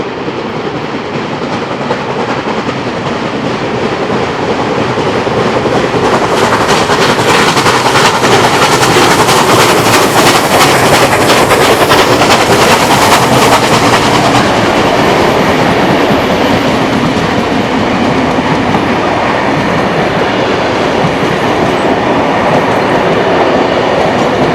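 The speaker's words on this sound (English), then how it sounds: "The two locomotives are now seen outside of Bargo Station." Two preserved heritage locomotives haul a train past Bargo Station in New South Wales, a loud, sustained rumbling roar with rhythmic wheel clatter building and holding close by.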